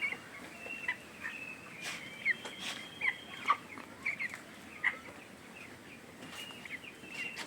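Heat-stressed broiler chickens in a shed give scattered soft clucks and brief squawks at a low level, irregular and fairly close, against a steady faint background hum.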